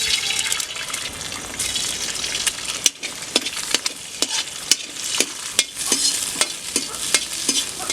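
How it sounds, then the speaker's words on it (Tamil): Egg frying in oil in a pan for traditional Garudan samba rice egg fried rice, a steady close sizzle with repeated sharp scraping and stirring clicks throughout, no voices. "எண்ணெய் ஊற்றிக்கலாம் முட்டையை உடச்சி ஊற்றிக்கலாம்"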